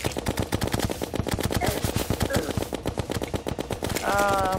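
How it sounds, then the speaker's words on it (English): Rapid, loud gunfire during a boss fight in the game Terraria, shots hammering in a fast, even rhythm throughout, with a rising game tone near the end. "I'm going to use a ton of ammo doing this, but when he goes in the ground I should stop shooting"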